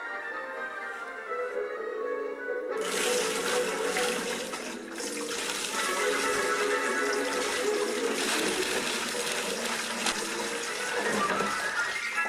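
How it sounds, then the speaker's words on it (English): Water pours and rushes into a model ship as it sinks, a dense continuous gushing and splashing that starts suddenly and carries on loudly without letup. "Water was starting to pour into the ship."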